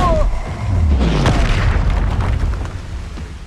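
Booming spell explosions in Hogwarts Legacy combat, a loud rumbling blast with heavy low-end sustaining over a few seconds.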